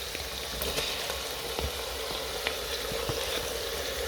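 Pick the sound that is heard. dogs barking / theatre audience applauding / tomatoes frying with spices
tomatoes frying with spices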